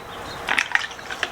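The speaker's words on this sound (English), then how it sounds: "So I'm going to fully submerge it to make sure it gets all of the inside too." A concrete candle jar being submerged in liquid concrete sealer, giving a few faint, close gurgles and small liquid plops over about a second.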